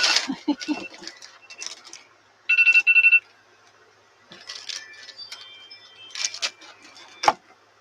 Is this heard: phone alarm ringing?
yes